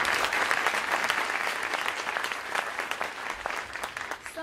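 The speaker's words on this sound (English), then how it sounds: "Please, a round of applause." Applause from an audience at a university launch event for an education, justice and ethics center, sustained dense clapping that holds steady for several seconds before thinning slightly at the end.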